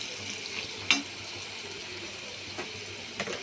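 A gooseberry pickle mixture fries in a pan, giving a soft, steady sizzle with a few brief scrapes and clinks from stirring.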